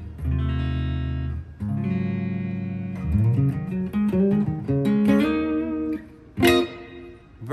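A plain, clean instrument tone with a touch of reverb plays a short run of sustained notes and chords, clear and alone with no effect processing.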